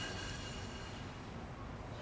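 A train passing in Croydon, a steady broadband rumble of wheels and carriages held at an even level throughout, with a brief brighter swell of rail noise at the end.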